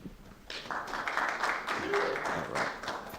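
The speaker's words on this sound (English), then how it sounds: "Give John. John a round of applause" A committee meeting audience gives a short round of applause, scattered clapping from a modest group in a room, moderately loud and lasting a few seconds.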